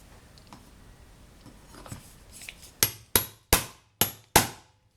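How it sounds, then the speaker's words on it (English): A hammer strikes a half-inch wide chisel cutting into wood, five sharp, evenly spaced blows ringing out close and loud after a stretch of quieter handling noise. "I'm going to use a hammer and a chisel to make the first cut."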